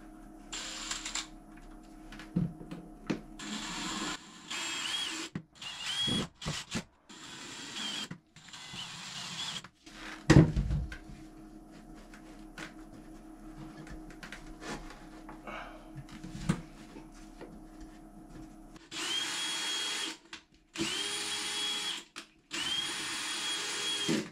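A power drill unscrews drain plumbing parts in repeated short whirring bursts of varying length, close and fairly loud, separated by pauses with clunks and handling noises.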